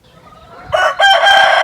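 Chickens in a backyard coop with a hen on the nest, one bird giving a loud, close, drawn-out clucking call in two bursts.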